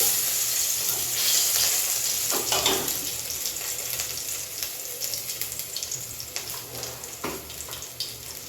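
Garlic sizzling in a little oil in a pan, a steady close crackling fry with brief stirring scrapes and no talking.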